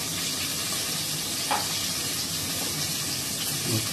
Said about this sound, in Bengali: বেগুনটা প্রায় 1 পৃষ্ঠা ভাজা হয়ে গেছে, কারণ খুব ভাজবো না, হালকা করে ভাজবো।